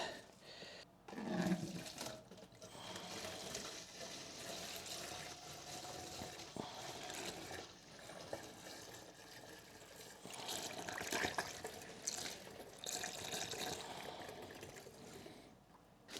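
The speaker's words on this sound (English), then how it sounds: "Tippy bottle with a funnel and a bunch of liquid." Motorcycle coolant from a Triumph Street Triple R pours through a funnel into a bottle, a steady close liquid gush and trickle running for several seconds, faint overall with brief splashes and no talking.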